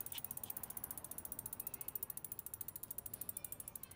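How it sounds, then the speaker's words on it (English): The freehub body ratchet on custom-built Velocity bicycle wheels clicks in a fast, even stream while the wheel coasts, a fine, quiet buzz of pawl clicks heard close with no talk. "we got the Freehub body sound test on these custom built Velocity wheels"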